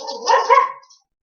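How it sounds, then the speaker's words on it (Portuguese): A dog gives one short, loud bark close by, a single burst lasting under a second and heard alone. "Pausa do cachorro."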